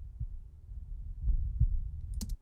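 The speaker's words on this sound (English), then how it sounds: "as you lose sanity, I've just got an RTPC that will play with your with a heartbeat" Low, soft thumping heartbeat in a puzzle video game, repeating pulses that swell slightly over a quiet hum, with a brief bright blip near the end.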